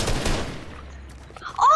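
A quick, loud burst of Fortnite gunfire cracks at the start, then fades out, followed by a brief high electronic chirp from the game.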